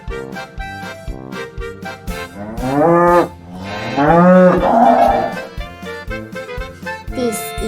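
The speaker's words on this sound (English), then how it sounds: "This is a cow," A cow lets out several loud, drawn-out moos one after another, each a rising and falling bellow with pauses between, over a steady rhythmic backing of children's music.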